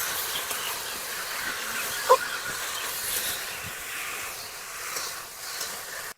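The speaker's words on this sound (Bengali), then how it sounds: "এর উপর থেকে আমি ভেজে রাখা পটল আর আলু দিয়ে দেবো। একসঙ্গে ভালো করে মশলার সঙ্গে মিশিয়ে নেবো।" Fried pointed gourd and potato being mixed with spices in a pan, a steady soft hissing sizzle with one brief metallic clink of a utensil, no talk.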